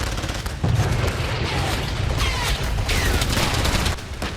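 British Army tanks and artillery fire during a winter military exercise in Finland in sub-zero temperatures. Dense, overlapping booms and blasts come through a constant rumbling roar, loud and sustained throughout.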